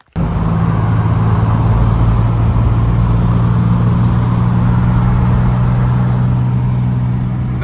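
A Cummins diesel truck, known to have a broken six-speed transmission and a blown head gasket, drives steadily with a loud, continuous low engine drone and road noise throughout, with no talking.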